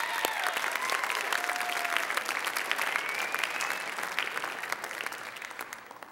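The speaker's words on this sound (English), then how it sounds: "Everybody give Ben a round of applause" An audience applauds a volunteer called up on stage, a dense, steady burst of clapping that carries on throughout and tapers slightly toward the end, with no talk over it.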